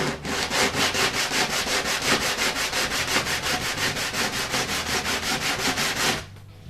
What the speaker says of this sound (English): Take some medium grit sandpaper.